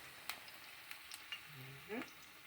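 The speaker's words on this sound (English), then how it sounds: "I'm going to let them fry until they get crispy and brown on the outside" Food frying in hot oil gives off a faint steady sizzle with a few small crackles and pops, close and quiet, while a voice briefly sounds under it.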